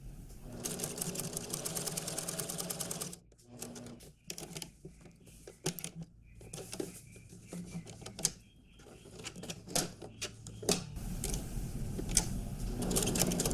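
A sewing machine topstitches around a waistcoat in quick rattling bursts, stopping and restarting several times, with soft handling clicks in the quieter gaps.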